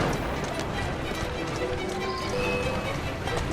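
Horse-drawn carriage in Assassin's Creed Syndicate, a loud, steady clatter of galloping hooves with rolling wheel noise and an occasional whinny, continuous and close throughout.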